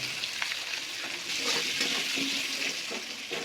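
Potatoes and eggplants frying in hot oil in a home kitchen, a steady close hiss and sizzle with faint crackles throughout, no talking.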